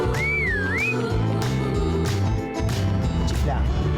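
A clear, loud whistle with a rising and falling melodic sweep, heard once near the start over a steady bed of music and background sound in a bank advertisement.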